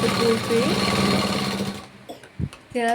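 Sewing machine stitching fabric in a tailoring shop, a loud, steady mechanical whirr for about two seconds that stops, followed by a short voice and the motor starting up again.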